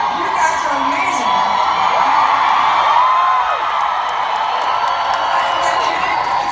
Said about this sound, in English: you're applauding so big, you're bursting my eardrum